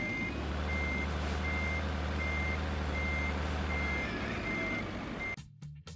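Truck in the driving game Trucks & Trailers reversing at full throttle: a loud, steady engine drone with evenly spaced high reversing beeps repeating, cut off abruptly at the end.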